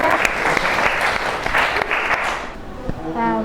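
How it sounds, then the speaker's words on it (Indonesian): A high school class at SMAN 9 Bogor claps for a student: a brisk burst of many hands, loud and close, fading as a voice starts speaking at the end. "beri tepuk tangan dulu untuk Raket"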